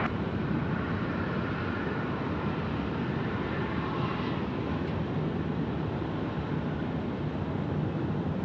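A jet taking off from runway 16 left at Sydney Airport, a steady broadband engine roar holding constant and fairly loud throughout with no voices.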